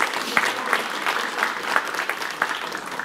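Steady applause from a church congregation, many hands clapping continuously at a moderate distance with a few sharper claps standing out.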